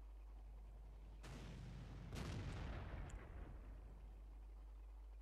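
World of Tanks M37 artillery piece firing in-game: a deep, booming shot bursts out after a brief rise, then rolls and decays over a couple of seconds against steady low background rumble, with no talking.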